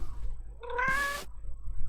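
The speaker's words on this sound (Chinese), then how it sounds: "我听到猫叫了" In the horror video game Clink, a cat gives a single clear, rising meow that lasts about half a second against a quiet, hushed background.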